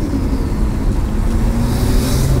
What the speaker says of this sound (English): Put it in reverse, Terry.